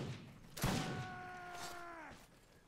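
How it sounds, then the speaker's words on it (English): One loud pistol shot in the Mount & Blade video game, a sudden close blast followed by a ringing, fading tone lasting over a second. "I am terrible with this pistol."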